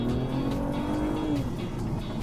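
A 2013 Honda Accord Coupe V6 with the HFP package driving, its engine note rising steadily as it accelerates, with tire and road roar underneath and a brief squeal-like tone, loud and close with no talk.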